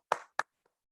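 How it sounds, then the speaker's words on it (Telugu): A brief burst of clapping as an audience applauds at a business income plan presentation, two quick loud claps followed by faint scattered taps. "గట్టిగా క్లాప్స్ కొడదాం ముగ్గురికి కూడా."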